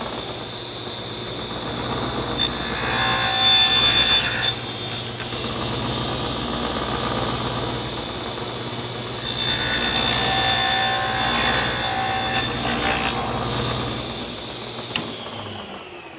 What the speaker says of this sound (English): This is the one I did just now on the table saw.